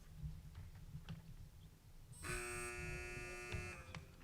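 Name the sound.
quiz game buzzer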